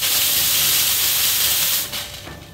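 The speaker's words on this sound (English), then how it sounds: "after activating your steam wand" Steam wand on a Sanremo Zoe Competition espresso machine blasting a loud, steady hiss for nearly two seconds before cutting off and tailing away, close and alone.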